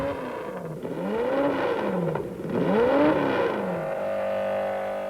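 A V8 Coventry Climax racing car engine revs up and down in repeated surging sweeps, loud and close, then settles into a steady drone.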